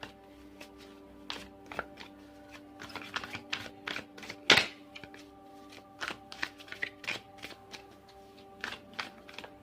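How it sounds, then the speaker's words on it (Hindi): Tarot cards being shuffled by hand, a steady run of soft crisp riffles and taps, close and fairly quiet, with one louder slap midway. "तो थोड़ा टाइम अगर शफल में लगता है तो प्लीज़ बुरा नहीं मानिएगा"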